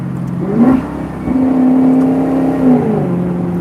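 A 2015 Maserati Gran Cabrio Sport convertible blips and downshifts, its engine note rising sharply, then holding a loud steady drone before dropping away, heard from inside the car.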